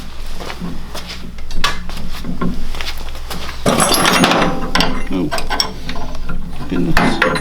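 Parts being tightened onto a go-kart gearbox on a Predator 670cc Spiderbox front-end build: close, loud ratcheting clicks and metallic mechanical rattling, with a denser burst of clatter midway.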